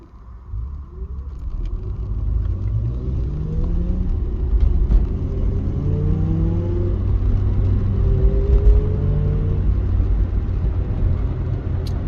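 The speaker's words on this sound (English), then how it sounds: "that better be a manual, because that was some horrible fucking gear shifting" A car accelerates with rough, uneven gear shifts, its engine rumbling and revving in rising sweeps that break off and restart several times across twelve seconds, loud and close throughout.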